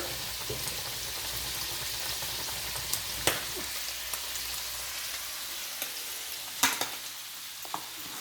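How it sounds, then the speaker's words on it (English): Stewed apples and pineapple with cinnamon are stirred in a pan, giving a soft steady simmering hiss broken by a few sharp spoon scrapes and taps, close and fairly quiet, with no talking. "And we're going to give that a stir."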